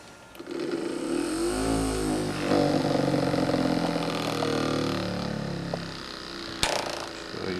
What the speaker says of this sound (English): let's run the Dyno up to speed